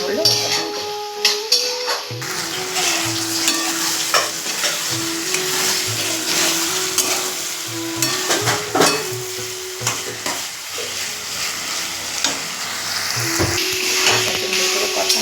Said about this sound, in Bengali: সুন্দর করে কষানো হচ্ছে দেখুন বন্ধুরা।